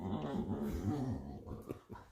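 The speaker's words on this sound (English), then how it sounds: "They're puppies." Puppies growling and grumbling close by, a continuous low rumbling snarl with whimpering tones, ending in a few short scuffling yips.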